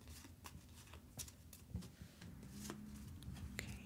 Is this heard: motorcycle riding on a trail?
no